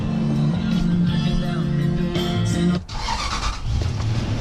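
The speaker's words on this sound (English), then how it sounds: "now the next thing to do is we're gonna start the engine" Truck engine cranking and catching on a vehicle being fitted with a dual battery tray, a steady starter whine and hum that cuts off sharply before the engine settles into a running rumble, close by.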